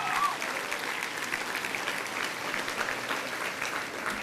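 A graduating class of 2006 at Richmond Academy breaks into steady, sustained applause, a dense wash of many hands clapping at a moderate distance with no pauses.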